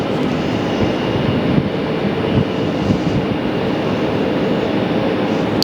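A Southwest Airlines jet pushing back and taxiing at Phoenix Sky Harbor gives a steady, dense, broadband engine roar that holds at a constant level throughout, with no voices.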